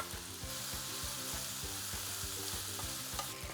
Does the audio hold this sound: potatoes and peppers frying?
yes